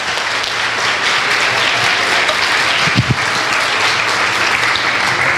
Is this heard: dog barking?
no